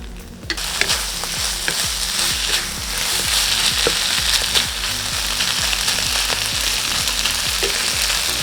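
Vegetable filling with abacus beads being stir-fried in a pan: loud, close, continuous sizzling with a repeated rhythmic scrape of stirring throughout.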